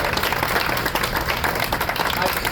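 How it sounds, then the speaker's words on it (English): An audience at the New Haven Pride Center's 30th anniversary event claps in a continuous round of applause, with a murmur of voices mixed into the clapping. "a second round of applause to the many people who donated"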